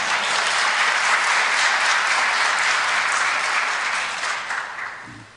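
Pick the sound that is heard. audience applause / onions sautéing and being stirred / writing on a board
audience applause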